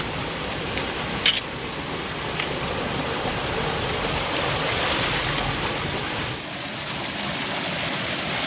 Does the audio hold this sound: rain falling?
yes